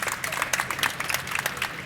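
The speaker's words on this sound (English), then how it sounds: "Give a round of applause for that one." Audience applause at a North Texas regional growth panel with the mayors of Fort Worth and Arlington, steady scattered clapping from a seated crowd, fairly close and even throughout.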